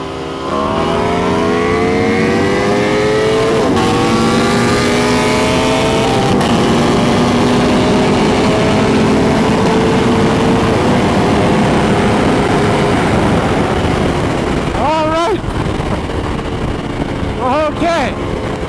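Modified sport motorcycles, a Ducati V4R and a 300 hp Kawasaki Ninja H2, accelerating hard on the street: a loud, close engine roar climbs steadily in pitch through the gears, with wind buffeting and brief sharp revs near the end.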